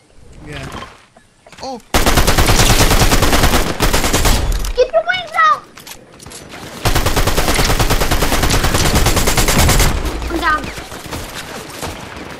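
Sustained automatic gunfire in the video game Fortnite rattles in two long, loud bursts of rapid shots, separated by a gap with short voiced exclamations and quieter stretches at either end.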